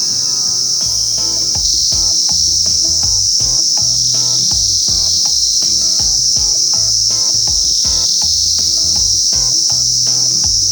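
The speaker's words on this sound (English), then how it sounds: "Throughout the road, you could hear the sound of those insects, which can make you feel that this place may be haunted." Dense chorus of insects shrills without a break at night along a jungle road, a loud, high, continuous buzz with faster pulsing chirps layered beneath it.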